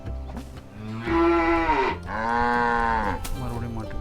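Cartoon cattle in the farming video game FarmVille 2 moo after being fed: two long, loud, low moos follow each other closely over faint background game sound.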